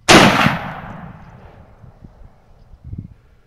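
A single loud, close gunshot from a high-recoil 500 Auto Max rifle during a night hog hunt in a thicket, a sharp blast with a long decaying tail followed by faint rustling and footsteps.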